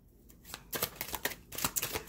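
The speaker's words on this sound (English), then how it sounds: "You want me to shuffle one more time, Gemini." A deck of tarot cards being shuffled by hand, with soft riffling bursts that grow busier and louder across a couple of seconds, close up and with no voice over it.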